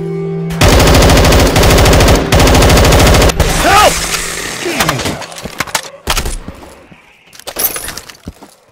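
Machine gun fire in Left 4 Dead 2 on the Fallen Fortress level: a loud, rapid, continuous burst lasting about three seconds, followed by scattered shattering, breaking impacts and sporadic shots.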